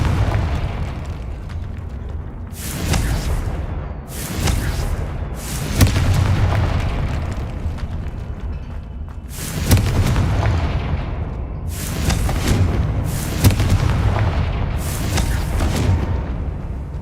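Confringo blasting spell going off in Hogwarts Legacy: a string of about seven heavy booming explosions, each a loud burst with a rumbling tail, arriving at irregular intervals over a continuous low rumble.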